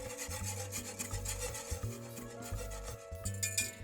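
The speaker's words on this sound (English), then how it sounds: "whisk in kosher salt, granulated sugar, and pink curing salt, and whisk until these ingredients are dissolved" Steady scraping and rubbing of a whisk against a bowl, dissolving kosher salt, sugar and pink curing salt into bacon brine, rhythmic and close, with a low hum underneath and no voices.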